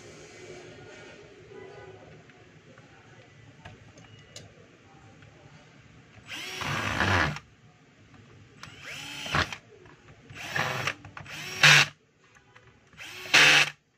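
Cordless power drill driving a screw into a DeWalt D25811 5 kg jack hammer, heard as several short separate whirring bursts, loud and close, with quiet pauses between them.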